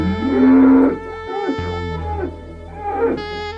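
Cows mooing in a Minecraft-style video game: a loud, drawn-out low moo followed by a few shorter calls, close and clear with no talking.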